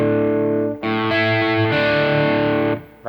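Electric guitar on a crunch channel with just a touch of distortion, playing the intro riff of a song: loud sustained chords ringing out with a short gap, then fading at the end.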